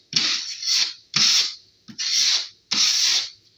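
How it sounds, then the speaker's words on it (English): A drywall trowel being scraped clean after each pass of filler over nail holes, four rasping scrapes in steady rhythm, close and clear with nothing else around them. "after each pass, clean off trowel"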